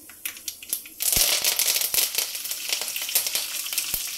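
Tempering for a fried banana-blossom dish sizzles and crackles loudly in hot oil, starting faintly then flaring into a steady close spatter after about a second, with a few sharp clinks.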